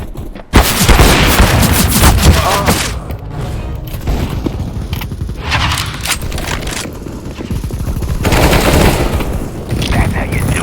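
CS:GO team deathmatch gunfire on the Vertigo map: dense rapid automatic bursts and shots, loud and nearly continuous, layered with booms and distant firing from other players.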